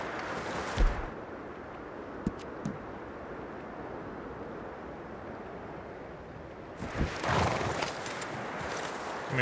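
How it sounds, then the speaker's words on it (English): A horse in the Red Dead Redemption 2 video game, its hooves clip-clopping with a few distinct thuds amid steady wind, with a louder rush of wind at the start and again near the end. "Come here, horse."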